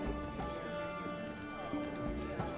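Horse hooves clip-clop as a mount rides off in The Witcher video game, steady hoofbeats mixed with game music and a voice speaking over them.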